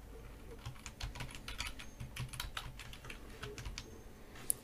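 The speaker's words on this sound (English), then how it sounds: "entering the code in this box" Steady, quick keystrokes on a computer keyboard as a coupon code is entered at checkout, a continuous close patter of clicks with no talking.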